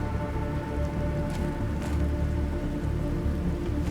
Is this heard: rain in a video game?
yes